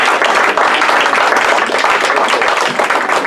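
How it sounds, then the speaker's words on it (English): Sustained audience applause at a charity magic show, dense steady clapping from a crowd that holds at full volume throughout with no pauses. "Round of applause."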